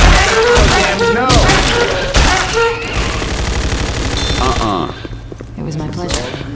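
Rapid bursts of gunfire and heavy thumps aimed at a clown in a dark carnival video game, loud and dense, with overlapping game voices shouting through the shooting.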